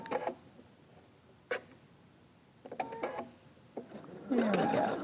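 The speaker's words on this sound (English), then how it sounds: "whenever you're sewing square to rectangle, start on the edge, don't start on the point" A sewing machine stitches a quilt square onto a rectangle in short, separate bursts of mechanical whirring and ticking, quiet and close, ending with a brief rougher run.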